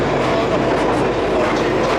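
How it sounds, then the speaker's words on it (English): A London train heading to Brixton rumbles loudly and steadily from inside the carriage, with a continuous roar of wheels on track and faint clatter. "we finally find the right train"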